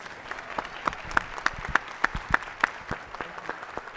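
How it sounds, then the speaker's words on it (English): An event audience applauds panelists at a Future of Work forum with a steady, moderately loud wash of clapping, several sharper claps standing out in a loose rhythm. "Will you join me in a full round of applause for all of our panelists?"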